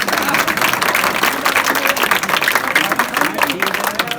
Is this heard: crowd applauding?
yes